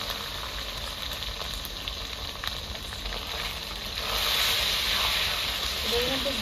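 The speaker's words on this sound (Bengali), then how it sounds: "ম্যারিনেট করা চিকেনটা 10 মিনিট হয়ে গেলে এবার ঢেলে দিচ্ছি" Marinated chicken poured into a hot pan for a village-style gandharaj chicken, with a constant frying hiss that swells louder midway as the meat lands and keeps sizzling close up.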